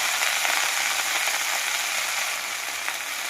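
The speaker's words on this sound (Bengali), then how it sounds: "এবার কড়াইয়ে তেল দিয়েছি, তেল গরম হয়ে গেছে। আমি শাকটা দিয়ে দেবো।" Bottle gourd greens hit hot oil in a wok and fry with a loud, steady hissing sizzle that fills the whole stretch, with no talking.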